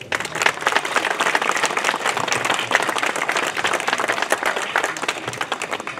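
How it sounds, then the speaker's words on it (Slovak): Loud, sustained applause from a crowd at the opening ceremony of a housing estate community day, dense clapping continuing evenly throughout. "patrí naozaj veľký potlesk"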